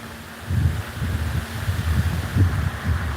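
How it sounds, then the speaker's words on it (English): Hurricane Milton winds roar on Florida's Treasure Coast, gusting near 100 miles per hour and bending trees sideways, heard from a front porch as a steady low rumble with surging, buffeting gusts and rustling. "100-mile-an-hour gust, and the trees are sideways"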